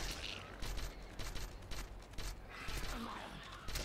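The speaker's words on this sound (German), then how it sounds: "Das war der falsche Schuss." A gunshot in the video game How to Survive, fired within a dense, noisy stretch of game audio that also carries other sharp effects and some background voice.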